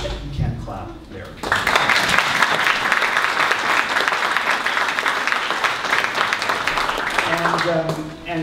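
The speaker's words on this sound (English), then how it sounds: "You can clap there." Audience applause at an end-of-camp concert of a Mennonite music camp, a full sustained roar of clapping that starts abruptly after brief talk and fades as a voice returns.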